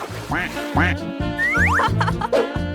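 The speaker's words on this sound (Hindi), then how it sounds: "और एक बेंच, एक लालटेन और तुम्हारे पास छोटे छोटे बत्तख भी होंगे" Cartoon-style duck quacking by a pond, a run of loud, nasal quacks in a steady rhythm with springy, sliding tones mixed in, up close and clear.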